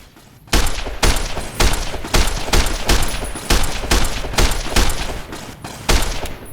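Heavy, loud gunfire in a firefight in Fallout: New Vegas, with a steady run of about a dozen booming shots spaced roughly half a second apart, each one ringing out before the next.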